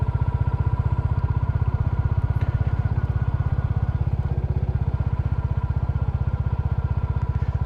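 A Royal Enfield Classic 350 motorcycle, nearly run in, heading onto dirt, with a close, steady, rhythmic single-cylinder thump that stays even throughout.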